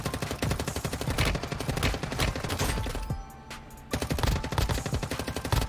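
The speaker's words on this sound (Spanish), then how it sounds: "Espérate, que escucho disparos por aquí." Rapid automatic gunfire in the mobile shooter Warzone Mobile, with loud bursts of closely spaced shots that pause briefly in the middle before resuming just as intensely.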